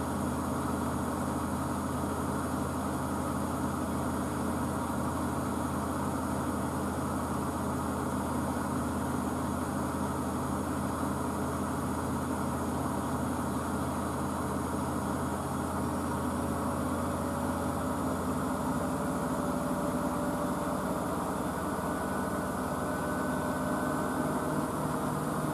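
A Blomberg WNF9448 washing machine spinning a full load of coloureds at 1000 RPM on a fast 40-degree cycle, with a steady loud whirring hum and a drum tone that rises slightly in pitch, running alone throughout.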